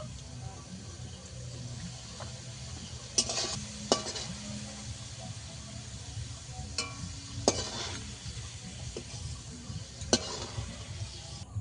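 Potatoes frying in oil, being lifted out and drained, give a soft sizzle with sharp metallic scrapes and clinks of a spoon against the pan at irregular intervals.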